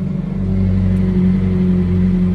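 A McLaren hypercar's engine with an aftermarket exhaust and tune idles and rumbles steadily up close, a low droning note with a slight rise early on and no talking.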